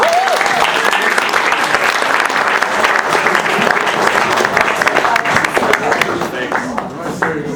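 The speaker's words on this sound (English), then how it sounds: "Give another round of applause." A theatre audience applauds after a scene, with dense, steady clapping from a large crowd that holds loud for several seconds before thinning slightly at the end.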